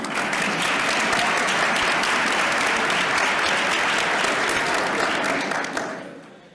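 An audience of superintendents, board members and principals at a student town hall claps in sustained, dense applause, a steady wash of many hands that holds level before fading away near the end.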